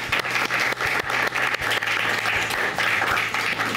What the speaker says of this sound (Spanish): Demos un aplauso, por favor, al señor Antonio Tony Lajier.